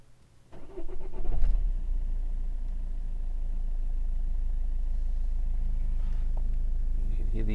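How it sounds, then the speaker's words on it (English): A Vauxhall Corsa D 1.3 CDTi diesel with an intermittent non-start cranks and catches, then settles into a steady, close idle with a faint click of the EGR valve opening. A person speaks over it briefly. "You can hear the EGR valve opening."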